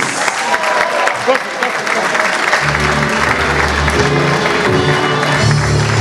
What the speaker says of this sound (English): So a big round of applause and happy birthday to Aisha, please.